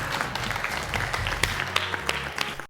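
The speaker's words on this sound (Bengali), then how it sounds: "আমরা সবাই করতালি দিয়ে" Studio audience clapping on a cooking reality show as a contestant is sent off, a sustained round of applause from a crowd, moderately loud with scattered sharper claps.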